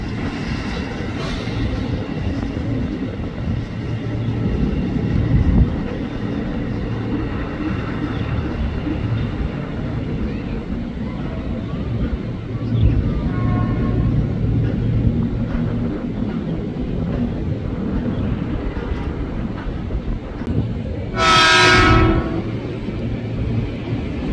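KRL commuter train at Manggarai station's upper level, a steady rumble of rail traffic with a loud horn blast near the end, heard from the platform with faint background noise.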